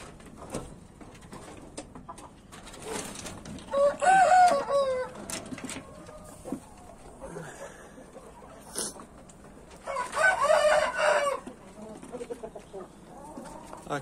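Three hens and a rooster vocalize outdoors on a cold day, with two loud bursts of clucking and crowing separated by quieter stretches of faint bird sounds.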